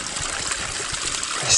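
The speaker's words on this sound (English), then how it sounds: "A sweet babbling brook." Trickling water of a small babbling brook in the woods, a steady gentle bubbling and splashing close by, running continuously with no voices.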